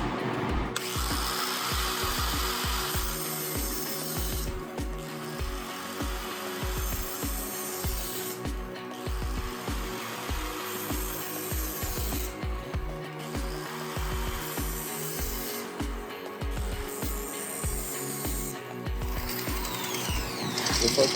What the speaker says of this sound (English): then we're taking a flathead bit on our drill,